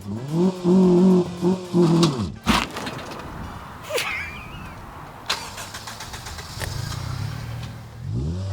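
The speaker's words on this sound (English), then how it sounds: "That's the worst burnout I've ever seen." A Honda Civic Type R engine revs hard in rising bursts, then drops into a rough, scraping burnout with tyre noise and a few sharp knocks.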